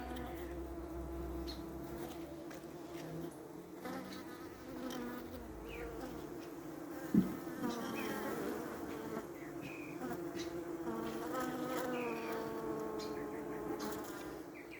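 Honeybees buzz around the entrance of a hive as foragers fly in carrying pollen, a steady close droning hum with individual bees passing nearby, and a brief knock midway.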